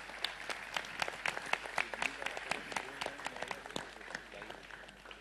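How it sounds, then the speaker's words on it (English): A crowd at a Bollywood promotional event for Ferrari Ki Sawari bursts into steady, dense clapping that swells and gradually thins over several seconds. "huge round of applause because"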